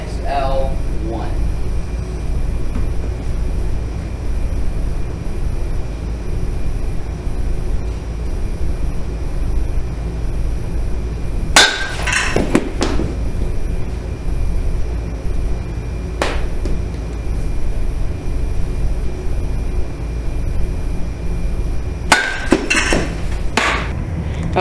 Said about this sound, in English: now we're hitting with the Easton 2015